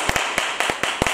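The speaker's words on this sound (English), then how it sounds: "Clap your hands and celebrate it." Hand claps from a church congregation during a sermon, a few loud sharp claps in a loose rhythmic pattern, close and clear, with no voices over them.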